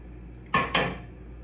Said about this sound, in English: nice shallow skillet, fry pan, ceramic coating